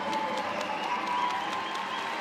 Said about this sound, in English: An applause for Jimenez as he heads to the bench.